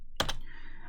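Two quick keystrokes on a computer keyboard, close and crisp in a quiet room, each a sharp tap.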